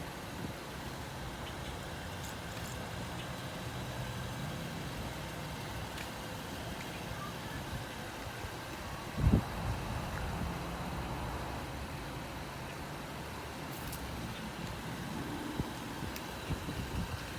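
A 2017 Honda Accord EX-L V6 idles with a steady, low, even engine rumble that holds at a constant level throughout, with no talking over it.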